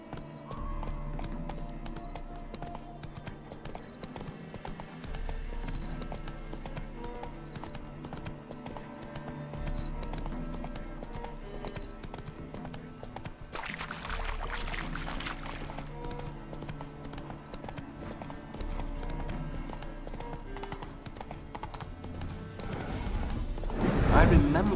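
Horse hooves clip-clop in The Witcher 3 video game, a steady rhythmic trot under ambient game music and scattered effects, growing louder near the end.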